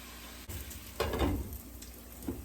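Eggplants, peppers and carrots fry in a pan with a steady soft sizzle, broken by a few louder crackling bursts and stirring scrapes.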